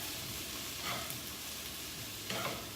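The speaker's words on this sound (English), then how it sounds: "mushrooms. And saute a little bit." Mushrooms sauté in hot oil with a steady, soft hissing sizzle and a couple of faint stirring scrapes, heard alone at a moderate distance.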